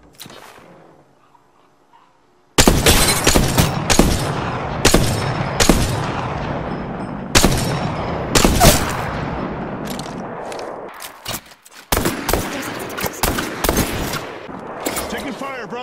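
Rapid bursts of gunfire in the Apex Legends battle royale game, loud sharp cracks and automatic volleys starting abruptly after a quiet opening, clustered in irregular rhythm with a short pause before a final barrage.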